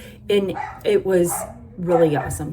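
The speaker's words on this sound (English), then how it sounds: "Sorry if you hear my psycho dogs barking in the background." Pet dogs bark in short bursts behind someone speaking in the foreground, the barks close and fairly loud and breaking in several times over her talk.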